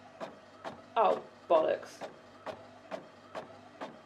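An inkjet-style home printer runs with a regular train of short mechanical clicks and feed strokes, punctuated by two louder grinding bursts, while a person mutters briefly nearby.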